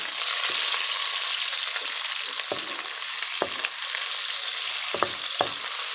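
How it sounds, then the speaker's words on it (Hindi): Chopped onions frying in very hot ghee, a steady loud hiss of sizzling broken by occasional sharp pops and spatula clicks. "अब प्याज को अच्छे तरीके से हम इसके अंदर फ्राई करेंगे।"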